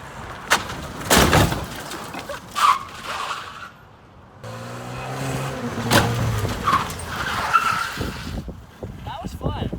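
A car with a freshly rebolted broken axle driving hard, with engine surges, brief tire scrubbing and thumps from landing a jump, while voices talk over it.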